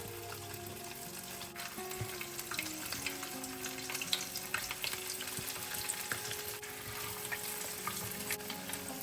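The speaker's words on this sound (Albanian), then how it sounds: "Do t'i skuqim me vaj lule dielli në temperaturë mesatare" Albanian flatbreads (petulla) fry in sunflower oil at medium heat, giving a continuous close, crackling sizzle with bubbling hiss and occasional pops, with no voices.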